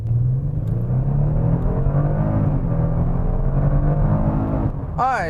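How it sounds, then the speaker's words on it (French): Interior of a Kia Stinger GT with its V6 engine accelerating hard, a steady loud rising engine drone with rumble that builds over several seconds, heard from inside the cabin. "Voici une petite accélération. Vous allez voir à quel point ça peut avancer."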